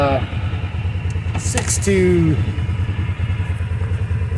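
An ATV engine idles and runs steadily in Alaskan snow at about 25°F, a close, rhythmic pulsing drone under someone talking.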